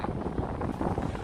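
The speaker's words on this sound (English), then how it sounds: "it's windy accordingly" Strong wind buffets the microphone on the open rooftop terrace at the top of the Whitney Museum in New York City, a continuous low rumbling roar with no talk.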